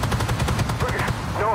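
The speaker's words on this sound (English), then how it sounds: "The 20mm coaxial is very effective against lightly armored vehicles like the BMP-1 here." 20mm coaxial cannon on an AMX-30B2 Brenus tank in the Armored Warfare video game fires a fast, continuous burst of loud, evenly spaced rounds, with some speech mixed in.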